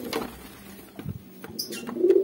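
A domestic pigeon coos softly near its nest in a few low, breathy phrases, with faint chirps and light background noise around it.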